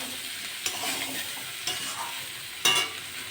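Leafy stalks with potato, pumpkin and prawns being stirred and sautéed in a pan, a steady close sizzle broken by three sharp scraping stirs.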